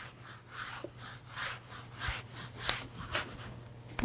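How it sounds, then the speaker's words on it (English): A lint-free rag wipes excess tung oil from a wooden surface in repeated soft, rhythmic rubbing strokes, close and fairly quiet, with no talking. "Using a lint-free rag, wipe off the excess."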